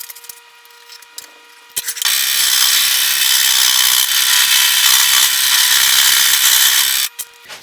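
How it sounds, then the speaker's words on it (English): A scroll saw cuts wood for a homemade mini lathe, its fast reciprocating blade buzzing loud and continuous for about five seconds before stopping, with softer shop clatter around it. "I'm going to be using the scroll saw."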